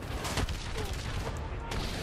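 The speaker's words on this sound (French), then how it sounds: "Regarde les explosions comme c'est bien fait." Dense, continuous Call of Duty Black Ops 3 battle noise with overlapping explosions and gunfire-like bursts, loud and busy throughout with no quiet gaps.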